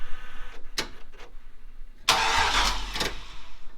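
A 1954 Chevrolet Bel Air rat rod, started with a 2003 key, gives a few brief clicks and then cranks over with a loud rough churning engine sound that runs for almost two seconds.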